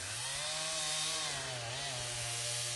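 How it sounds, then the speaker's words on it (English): A chainsaw cutting logs drones from a moderate distance, its engine pitch wavering up and down as the blade works through the wood. The buzz runs continuously across the whole stretch, with no voices. "But you can see the chainsaw."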